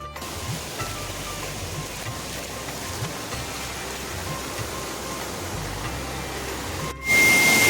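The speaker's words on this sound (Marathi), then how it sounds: "पाण्याचा आवाज जरा जास्त येतो आहे" A stream in the Konkan countryside rushes loudly and continuously, a dense steady roar of water with no talking, ending in a brief louder burst of noise near the close.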